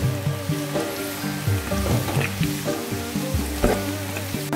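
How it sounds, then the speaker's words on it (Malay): Ginger crackles and sizzles steadily in hot oil while being stir-fried for a pickle dish, a dense continuous frying hiss with small pops, no voices. "bila minyak dah panas kita masukkan bahan tumisan masukkan halia kita goreng dia sehingga naik wangi"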